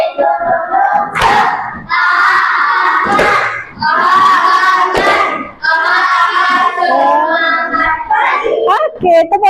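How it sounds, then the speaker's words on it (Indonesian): Classroom children doing 'tepuk semangat', a rhythmic clapping chant: sharp, loud claps break up bursts of energetic group chanting in a steady pattern, close by. "kita akan melakukan tepuk semangat"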